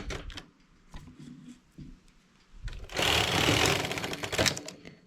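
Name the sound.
knitting machine working English rib stitch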